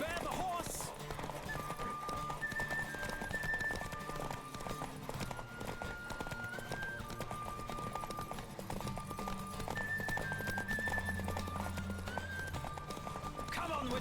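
A horse gallops in The Witcher 3: Wild Hunt, with rapid rhythmic hoofbeats running steadily for about fourteen seconds over a backdrop of music, and a voice speaks briefly.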